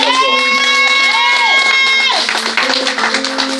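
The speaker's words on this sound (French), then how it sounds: "Est-ce qu'on peut acclamer Jésus?" A church congregation erupts into loud crowd cheering and shouting, with sustained voices and a singing or sung tone running through, dense and close throughout.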